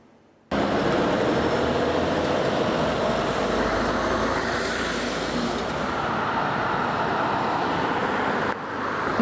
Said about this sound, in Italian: Code chilometriche all'uscita dell'A27 in direzione nord, traffico bloccato sulla Gordina.